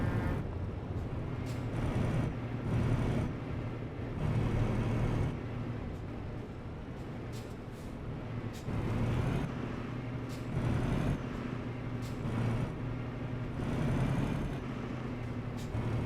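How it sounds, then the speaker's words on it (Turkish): A DAF truck engine in Euro Truck Simulator 2 on the Kirkenes mine road roars steadily and deeply for the whole stretch, swelling and easing in waves as the throttle changes, with no voices over it. "Dafın sesi nasıl böyle ya? Araba kükürüyor resmen"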